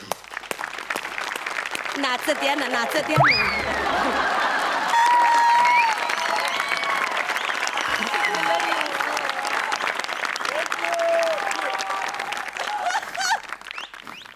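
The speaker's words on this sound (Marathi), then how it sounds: "आता आपल्या समोर येत आहेत सुमित शेट्टी जोरदार टाळ्या" Audience applause and cheering at a Marathi comedy stage show as a performer comes on, dense clapping running under an announcer's voice and a short bit of singing, loud and steady throughout.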